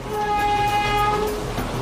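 A Darjeeling Himalayan Railway train runs through the hills of India, giving a loud, steady rumble of rail movement under a sustained tonal horn-like whine. The sound is close and continuous throughout, with no voices.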